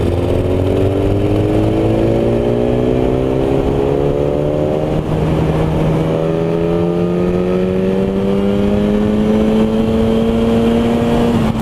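A BMW S1000RR with an aftermarket exhaust pulls hard at full throttle in sixth gear on a country road, its loud, sustained engine note rising steadily in pitch over the whole span, close and continuous, no voices.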